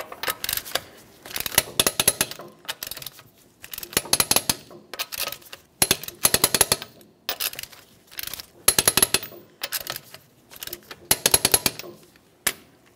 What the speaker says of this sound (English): we're going to torque these to that 80 foot-pounds in a crisscross manner